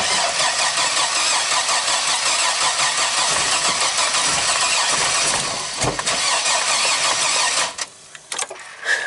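A GM 4.3 V6 engine in a Chevy Astro van with a P1626 crank no-start fault cranks loudly and continuously for about eight seconds without catching, then cuts off abruptly.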